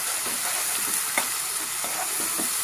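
A ground onion-tomato puree with garlic, fenugreek and coriander seeds fries in a pan for a fish curry, giving an even, close sizzling hiss with soft stirring scrapes and no voices.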